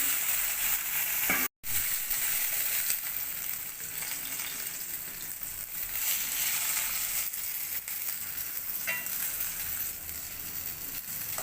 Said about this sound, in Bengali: দু পিস মাছ আছে, ভেজে নেব, তাহলে এই মাছগুলো ভাজা হয়ে যাবে